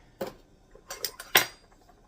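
Teaspoons of sugar being scooped, three short metallic clinks and scrapes of a spoon against a container, close and fairly crisp in a quiet kitchen.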